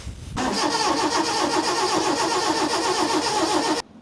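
A Proton Wira's engine, neglected for 12 years, cranks over steadily in a rapid, rhythmic churn for a few seconds without catching, then cuts off abruptly.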